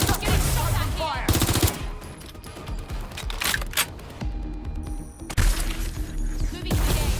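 Rapid automatic gunfire and single shots from a firefight in the video game Watch Dogs: Legion, loud and close, coming in dense bursts broken by brief pauses, with shouted voices mixed in.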